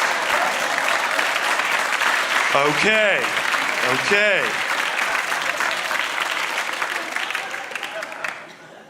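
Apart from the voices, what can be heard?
audience clapping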